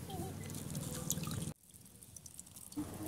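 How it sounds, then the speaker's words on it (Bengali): Water dripping and trickling as hand-squeezed homemade chhena (paneer curds, curdled with lemon juice) is pressed; a busy wet patter runs first, then drops to softer, sparser drips with one small splash near the end. "এবার জলটা ভালো করে চিপে চিপে বের করে দিচ্ছি।"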